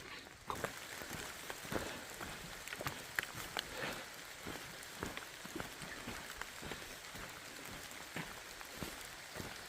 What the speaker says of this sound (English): as you can tell, it is raining